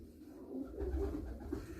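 A male homing pigeon in a loft gives soft, low cooing over a couple of seconds, faint and close.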